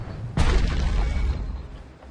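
A single grenade explosion in the video game Bastion, one sudden loud boom with a heavy low rumble that decays over about a second and a half.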